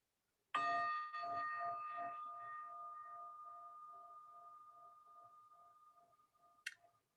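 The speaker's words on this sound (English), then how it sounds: "As we listen to the chime" A single chime struck once, its bright metallic ring lingering and slowly fading over several seconds, with a faint higher tap near the end and no voices.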